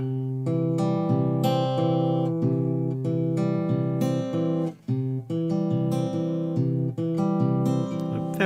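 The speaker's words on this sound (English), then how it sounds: "Pattern number 3 is another simple variation on our basic pattern, and it sounds like this." A fingerpicked guitar pattern with a steady alternating bass under plucked upper notes, played clean and close with a short dip partway through the phrase.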